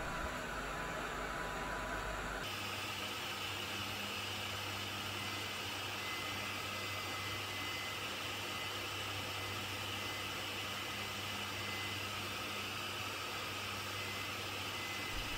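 Hot air rework station blowing steadily through a square nozzle over a PS3 motherboard GPU at 200 degrees Celsius, a continuous broadband airflow hiss that shifts in tone after the first couple of seconds and then stays even.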